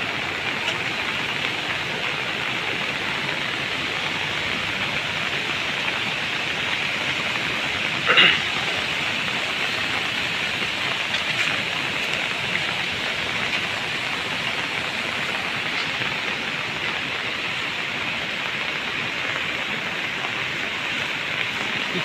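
Heavy rain falling over a village in Rayagada district, Odisha, a steady, even hiss of downpour lasting the whole stretch, with no voices.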